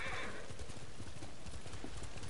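Rapid hoofbeats of a galloping horse in the video game Ghost of Tsushima with a brief whinny, steady and close over a noisy outdoor background.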